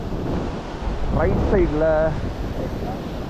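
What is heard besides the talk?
heavy ocean waves and wind at the shore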